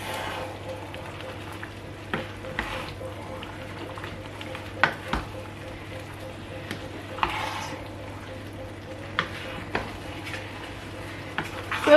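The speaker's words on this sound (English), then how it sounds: "we are going to give it a stir" A pot of spicy tomato jollof rice bubbles softly and gets stirred, with scattered spoon knocks and scrapes over a low steady hum, fairly close and quiet overall.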